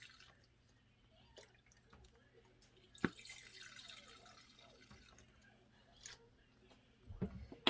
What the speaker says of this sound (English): Now it is time to add our coagulating ingredient. 2 tablespoons of lemon juice.